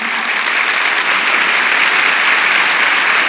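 Sustained applause from a church congregation at a Sunday service, steady and dense throughout with no voices over it.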